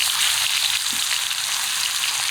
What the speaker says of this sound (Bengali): বাকি পিসগুলো দিয়ে দিলাম আজকে এখন শুধু বসে বসে মাছগুলো ভাজছি